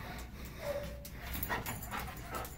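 A dog whimpers and gives a few short high yips, close by and fairly quiet, with a soft whine drawn out in the middle.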